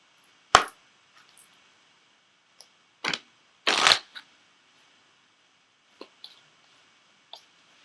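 Oracle cards from an Ascended Masters deck are shuffled and one is pulled, giving a few quiet, sharp riffling snaps and soft flicks separated by silence.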